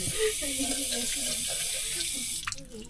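A faucet at a rainy mountain campsite runs in a steady hissing stream that stops abruptly near the end, with someone talking faintly over it.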